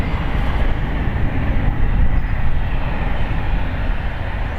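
A Boeing 777 airliner lands at San Francisco International Airport with a loud, steady, broadband roar that holds without a break and swells slightly near the middle. No voices are heard.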